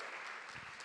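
A conference audience at an AI engineering event claps for a speaker, a dense, steady wash of applause from a crowd, moderately distant and brief.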